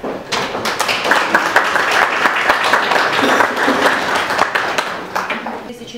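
Applause from a crowd at a traditional Easter children's festival, a dense steady patter of many hands filling several seconds and tapering off at the end.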